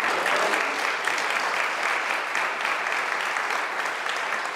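Steady audience applause at a poetry evening, a dense wash of many hands clapping throughout, fairly loud and even with no pauses.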